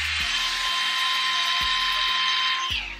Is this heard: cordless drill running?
yes